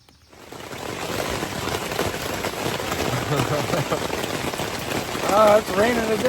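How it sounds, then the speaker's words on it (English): Steady rain patters down on the Appalachian Trail across the whole stretch, a dense continuous hiss of drops on a surface, with a brief brighter squeak near the end. "Oh, it's raining today."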